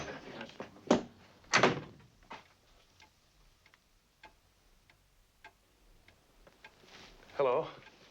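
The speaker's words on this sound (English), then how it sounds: "when they open the door, the entire pub stops and turns around and looks at them." A pub door opens in a scene from the film An American Werewolf in London, with two loud, close thumps about half a second apart, then faint ticking and a brief murmur of voices near the end.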